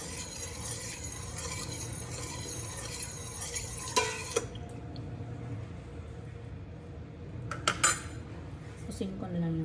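A spoon stirs vinegar into a meatball mixture in a bowl, making soft scraping and a few sharp clinks against the dish over a steady low background hum.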